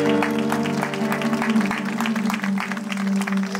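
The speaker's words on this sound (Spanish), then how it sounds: "Un fuerte aplauso para mi Dios Todopoderoso" A church congregation claps together during a sermon, rhythmic applause carried over a sustained musical drone from instruments, fairly loud and full, with a voice faintly present in the mix.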